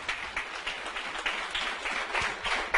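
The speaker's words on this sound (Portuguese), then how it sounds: "Merece ou não merece uma salva de palmas?" Applause rises from an audience at a product presentation event: dense, continuous clapping at moderate loudness, with no speech over it.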